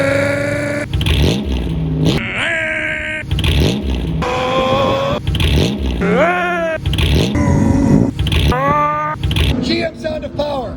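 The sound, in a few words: Pontiac Sunfire race car with swapped GM 3.4 liter V6 engine revving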